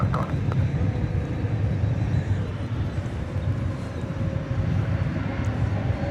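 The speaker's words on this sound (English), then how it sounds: "is this Qatar A350-1000 going back to Doha." A Qatar Airways Airbus A350-1000 departing DFW for Doha at night gives off a broad, steady low roar of jet engines, constant and fairly loud throughout.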